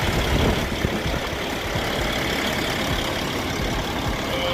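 A 2016 Peterbilt 579 truck idles with a steady low rumble, heavily mixed with loud wind buffeting that masks much of the engine.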